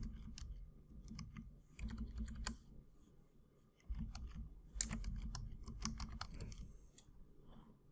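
Typing on a computer keyboard in Vectorworks, a quiet, close patter of key clicks arriving in short irregular bursts with brief pauses between them, no talking.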